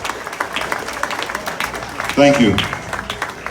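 A crowd at a Labour Day union rally in Union Square applauds the Minister with a steady wash of clapping while a nearby voice briefly speaks over it.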